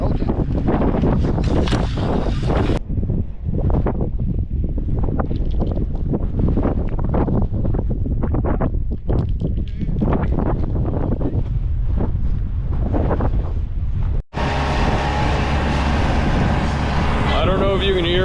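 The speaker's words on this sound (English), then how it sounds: "It is windy. Very, very windy." Strong wind buffets the microphone outdoors on a ranch, a loud continuous roar with gusty swells, cutting out briefly near the end and returning harsher; someone talks through much of it.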